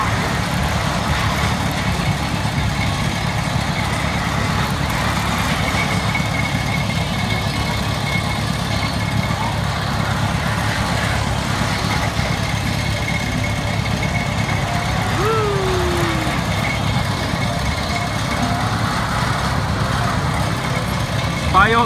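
An engine at a funfair runs with extra throttle, making a loud, steady, close drone that holds an even level throughout, with a faint background voice.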